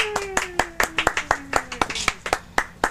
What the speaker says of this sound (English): let's give a big round of applause and welcome to humorist Bill